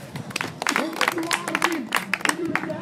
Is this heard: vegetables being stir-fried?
no